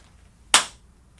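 A single sharp hand clap, close and crisp, with a quick decay into quiet, used to trigger a sensor on an Arduino wearable.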